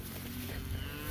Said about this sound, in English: Fat cattle.